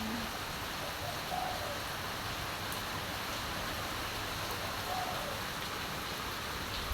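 Afternoon rain pours in Singapore as a steady, even wash of hiss that holds at a constant soft level throughout, with a faint bird call now and then.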